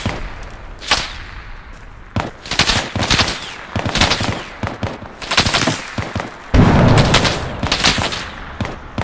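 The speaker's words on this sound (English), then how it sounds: "It sounds like they're shooting at us." Enemy gunfire in the video game Bellum crackles in rapid bursts and single cracking shots, some close and loud, others more distant, overlapping in an irregular fusillade throughout.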